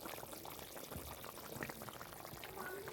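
Cooked fish curry is poured from the pan, a faint, close liquid splashing and glugging over a bubbling background for a few seconds, with a low voice murmuring at times.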